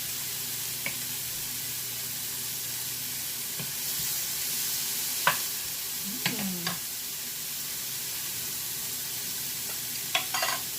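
White mushrooms frying in a pan, a steady soft sizzle throughout with a few sharp clinks and stirring scrapes of a utensil against the pan.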